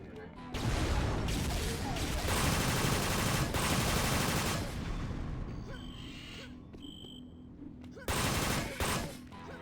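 Upgraded Stinger gun from Unreal Gold (Evolution mod) firing in loud sustained rapid bursts, with a pause and then a shorter final burst, mixed with game effects and a voice.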